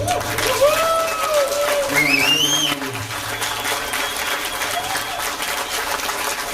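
A crowd claps and cheers in tribute to a late friend, with whistles and shouted voices rising over the sustained applause throughout.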